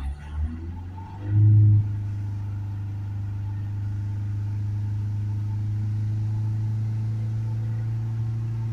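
Diesel car engine during a forced DPF regeneration, revving up briefly then settling into a steady, loud, low, close idle hum.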